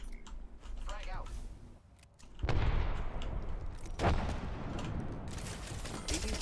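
Frag grenade going off in the Apex Legends battle royale game, a sudden loud blast followed by rumbling debris and a second burst, with game chatter and mechanical clicks before it.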